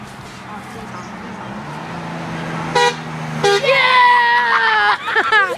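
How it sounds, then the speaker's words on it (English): A truck horn honks in passing road traffic, two sharp blasts followed by a longer sustained tone, over engine rumble with excited voices around it. "that's our second honk"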